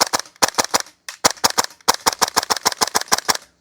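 Repeated shots from a gas-powered Double Eagle DWS Lupus (MWS) airsoft rifle fired on semi-auto: about fifteen sharp, close cracks, first in a few quick bursts with short pauses, then a fast steady string, with no talking.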